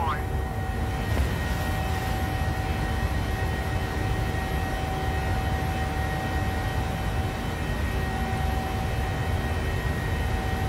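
Steady drone of a small airplane's engine during a landing approach into cloud near New Orleans, loud and constant throughout, with a faint radio voice under it.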